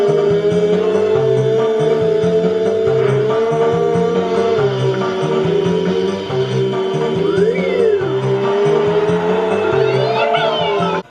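Engine whine and race sounds from Mario Kart played with a steering wheel controller, a steady loud drone carrying game music, with a brief swooping tone partway through.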